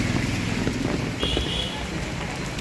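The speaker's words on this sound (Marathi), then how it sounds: "सकाळी 10 वाजल्यापासून पाऊस चालू आहे, अजिबात बंद नाही" Steady, dense rainfall hissing and pattering continuously nearby, with a low rumble of wind underneath.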